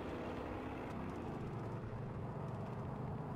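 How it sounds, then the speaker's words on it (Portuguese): An airplane flies overhead in the video game Far Cry 5, a steady, broad engine drone that holds at an even level throughout with no talking. "Isso é avião, ó, que tá passando por cima"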